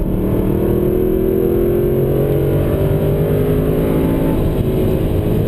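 A car speeding up during a driving lesson, its engine a loud, steady, close drone heard from inside, with the pitch slowly climbing as it gains speed.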